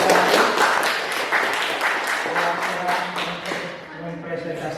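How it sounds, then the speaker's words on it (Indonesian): Audience applause rings out in a classroom after a student project presentation on making cassava tape, dense steady clapping with some voices mixed in, fading slightly toward the end. "mari kita berikan aplaus untuk"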